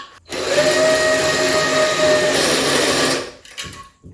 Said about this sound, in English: I'm gonna grind some down here.